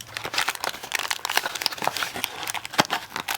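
Taped packaging of a photocard haul being torn and crinkled open close up, a rapid irregular series of sharp paper and plastic crackles with no talking.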